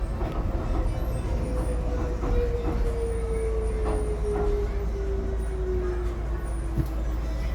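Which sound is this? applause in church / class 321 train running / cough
class 321 train running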